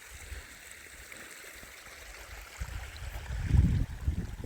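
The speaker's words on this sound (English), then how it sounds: "I gather one of the rocks I use for a glaze, particularly from this wonderful little stream here that you can hear" The Cherry Brook, a small moorland stream on Dartmoor, burbles steadily and close by, with a louder gurgling surge near the end and no talking.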